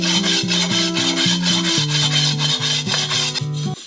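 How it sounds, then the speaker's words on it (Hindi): An iron tava griddle is scrubbed hard with a brick and soap in a quick, even back-and-forth rhythm of gritty rubbing strokes, close and loud, with no talking. "ये तवा लोहे का तवा है जिसको आपको अच्छे से ईंट से और साबुन से रगड़ना है और धोना है अच्छे से।"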